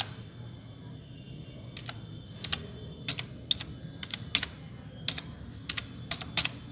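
Computer keyboard typing while an email form is filled in: irregular bursts of close, crisp key clicks over a low steady room hum, no talking.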